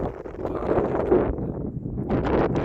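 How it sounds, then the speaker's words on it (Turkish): A strong, steady wind roars and buffets nearby on a boat trip along the Marmaris-Datça coast, with rushing gusts that swell again near the end. "Buradan rüzgar sert iniyor."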